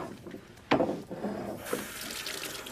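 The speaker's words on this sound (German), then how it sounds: "Sie dürfen Ihre Hände waschen." A kitchen tap runs as hands are washed under it, water gushing on suddenly into the sink and splashing steadily and close, with shifting splashes as hands move through the stream.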